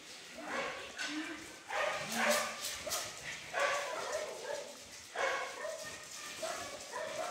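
Several dogs bark and yip in bursts across a large new indoor room shared by dogs and volunteers, loud and close, with short whimpers between the barks and no talking.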